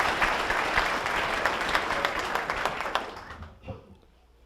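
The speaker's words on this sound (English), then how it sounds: "Would you please give them a round of applause?" An audience at a dirt modified racing hall of fame induction ceremony claps loudly and steadily, a dense wash of applause that fades out over the last second.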